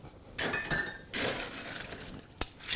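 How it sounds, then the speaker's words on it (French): Crushed ice tumbling into metal julep tumblers while a cocktail is built, crisp clinking and rattling in two bursts, then a sharp single clink near the end; close and fairly quiet. "on va rajouter de la glace pilée"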